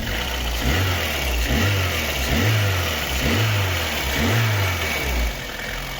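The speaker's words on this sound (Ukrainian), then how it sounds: "ГБЦ працює тихо, переступ поршньової є, нікуди він не дінеться. Але нічого не троїть" A Lada Kalina 1.6 engine idles after a valve clearance adjustment, running smoothly and loudly close up with an even pulsing rumble and a light mechanical tick, and no voices.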